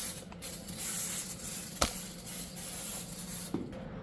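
Brake cleaner sprayed onto engine parts while assembling a 5.3 LS V8 for a Jeep, a steady close hiss of aerosol running for several seconds with a few sharp clicks and knocks of handling mixed in.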